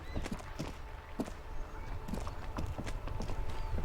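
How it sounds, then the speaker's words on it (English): Horse hooves clip-clop in a steady walking rhythm in the Disco Elysium video game, fairly faint and continuous over a dense ambient background. "Do I hear a horse?"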